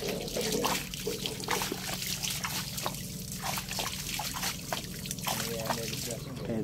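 Water trickles and pours steadily into a boat on a fishpond as shrimp fry are being released, a continuous splashing flow with voices faintly audible over it.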